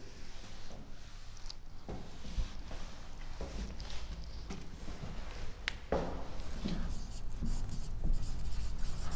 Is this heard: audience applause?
no